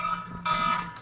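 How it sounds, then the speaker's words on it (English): A brief electronic alarm tone plays as a sound effect, a steady high beeping pitch with a short break, fairly faint and alone. "That is my Marysville, Washington shooting alarm."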